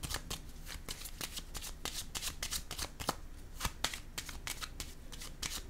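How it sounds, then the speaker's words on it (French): Tarot cards shuffled and handled in a quick run of crisp riffling flicks and soft slaps, close and steady, with no talking over it. "Je vais déposer une carte ici."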